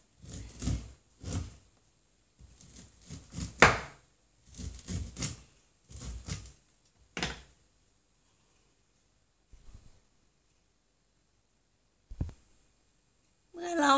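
A knife cuts kernels off a fresh corn cob on a board, making irregular clusters of dull chopping thumps with quiet gaps between them and one more burst near the end.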